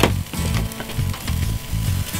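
Steak sizzling on a grill, a close, loud crackling hiss with rhythmic low thumps and pops running steadily throughout, no talk.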